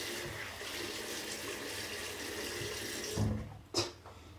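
A bathroom tap runs steadily into a sink while the face is wetted before a shave, the flow faint and even with a couple of splashes near the end.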